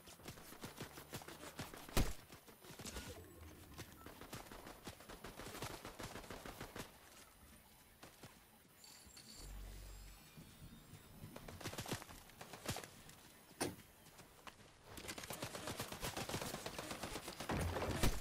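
Scattered gunshots and bursts of gunfire in the video game Fortnite, sharp cracks at irregular intervals amid background game sounds and a low thump midway, moderately loud.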